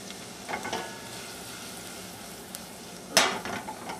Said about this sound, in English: Saute this over medium-low heat.